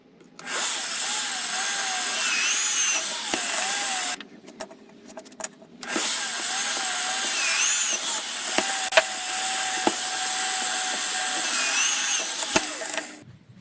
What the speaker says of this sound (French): je vais percer mon ressort et ma lame